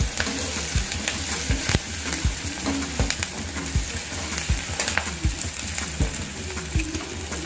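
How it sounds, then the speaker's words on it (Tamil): Garlic and curry leaves temper in hot oil for a dry fish curry, a lively close sizzle punctuated by repeated sharp clinks and scrapes of a spoon stirring the pan. "அதுக்கடுத்து பூண்டு, அப்புறம் அதை வச்சு கருவேப்பிலை. அப்படியே ஸ்டெப் பை ஸ்டெப்பாக போடணும். போட்டு நல்லா தாளிச்சிடணும் அதில்"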